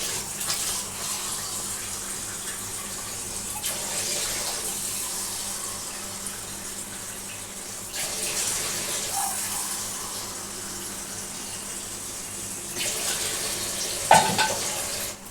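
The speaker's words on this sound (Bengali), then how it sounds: "এর মধ্যে ওই মাপে 3 কৌটো জল আমি নিয়ে নিলাম।" Water being poured into a cooking pot for jeera rice, a steady splashing rush that lasts throughout, close and fairly loud, with a brief clink near the end.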